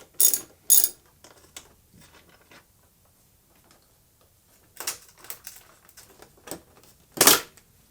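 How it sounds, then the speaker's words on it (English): A screwdriver working out the small fairing screws on a 2021 Yamaha R3, sparse close clicks and short ratcheting scrapes in scattered bursts with quiet gaps between, no voices. "Those are just regular screws that you can just take off using a screwdriver."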